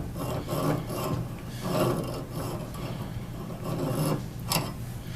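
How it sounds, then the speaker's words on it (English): A three-cornered file rasps along the pilot screw threads of an auger bit in a rhythmic series of close, steady strokes, with no voices. "So I could be using a 3-cornered file like this one"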